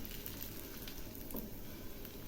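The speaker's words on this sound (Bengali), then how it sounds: "একটু পাক ঘুরিয়ে ঘুরিয়ে ভেজে নিচ্ছি।" Mango patishapta pitha fries in a pan, giving off a quiet, steady sizzle with faint stirring sounds throughout and no talking.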